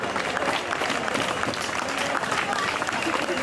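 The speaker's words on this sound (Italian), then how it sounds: "Inviterei tutti a fare un bel applauso perché credo che se lo meritino" An outdoor crowd at a horseback pariglia festival presentation applauds the riders, a steady, moderately distant clapping with a few voices mixed in.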